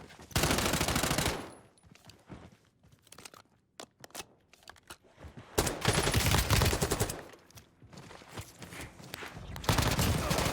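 Bursts of video game gunfire as a player body-shoots an enemy in a solo battle royale match, loud rapid volleys at the start, middle and end separated by quieter gaps with crackling and a little talk.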